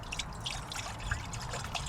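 Water trickles and drips softly and continuously as fresh produce is rinsed in a basin at a car-camping spot in a Subaru Outback, close by and without talking.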